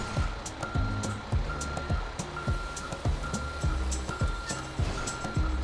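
Reversing beeps from a Pertamina tanker truck backing slowly in a modded GTA 5, a regular series of beeps over a low rumbling engine, with brief hissing bursts between.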